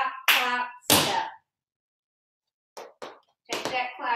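Tap shoes strike a floor during a tap dance class in a few sharp, scattered clicks and scuffs, mixed with an instructor's voice talking before and after.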